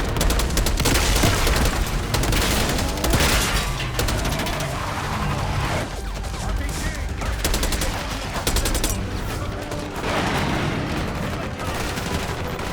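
Heavy gunfire in Call of Duty Black Ops 6 during an assault on a palace gate, sustained loud automatic fire and booming shots with no break, close and dense throughout.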